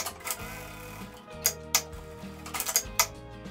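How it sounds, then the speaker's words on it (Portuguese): A sewing machine stitches a seam along a 10 cm bag flap for a large lined handbag, running in short bursts with a low motor hum and rapid needle clicks. "Eu vou passar uma costura em toda a altura dos 10 centímetros"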